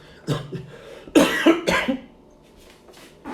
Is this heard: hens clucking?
no